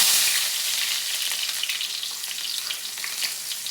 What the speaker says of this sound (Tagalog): mainit na yung mantika. Lagay natin ng sibuyas